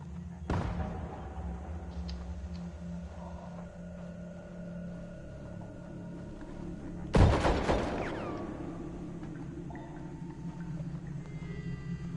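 A sawed-off shotgun blasts once in Red Dead Online, a single loud sharp report over steady game ambience, with a fainter shot heard earlier in the scene.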